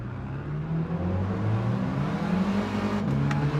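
Tuned race car engine in Gran Turismo 7 drones and climbs through gears, a continuous loud revving hum with no voices.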